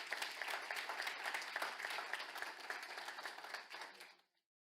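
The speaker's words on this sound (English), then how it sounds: "let's give a round of applause to our Lions" Audience applause for Lions club officers at a school district board meeting, a dense, steady patter of many hands clapping that continues for about four seconds and then stops abruptly into silence.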